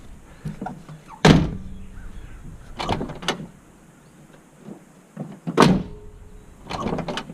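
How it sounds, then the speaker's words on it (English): A car door with new striker bushings is pushed shut lightly and latches, producing two sharp thunks with softer handling clatter between them, close and fairly loud. "You can really push it really light now, and it'll latch."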